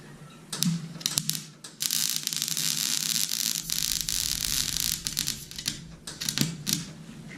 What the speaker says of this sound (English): I can't get my welder adjusted